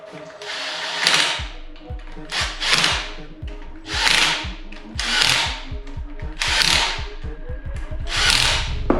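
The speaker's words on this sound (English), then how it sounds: "powered electric impact gun and give her all of the beans" A plug-in electric impact gun drives flywheel bolts during an engine install on an MK4 Jetta wagon with a big-turbo 8V. It rattles out about six loud, close hammering bursts in a steady start-stop rhythm.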